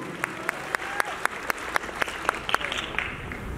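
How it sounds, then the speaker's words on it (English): A convention crowd at an anime event in Houston applauds itself during a Sailor Moon musical Q&A. The clapping sounds fairly sparse and moderately loud, with distinct sharp claps standing out at regular intervals over a softer wash of hands. "you guys give yourselves a round of applause"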